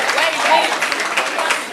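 Brief burst of audience clapping at a university debate event, a short, fairly loud wash of applause with voices murmuring underneath.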